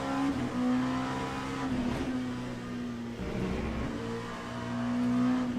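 An LMP2 prototype race car in Le Mans Ultimate, racing at Bahrain, drones with a loud, steady engine note that dips and climbs slightly as it shifts and accelerates, alone without talk.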